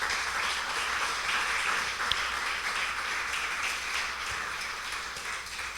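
A church congregation claps for Jesus during a sermon, a steady, moderately distant wash of many hands that holds evenly for several seconds and eases off slightly near the end.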